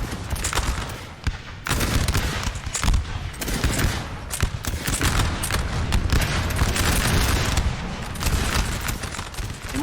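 Artillery firing canister shot in Napoleon Total War 3, a continuous roar of massed gunfire and booming cannon blasts, loud and dense, with crackling volleys throughout.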